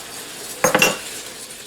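A utensil stirs noodles and meatballs fried in butter in a pan, giving a brief cluster of scraping clinks in under half a second before quiet returns.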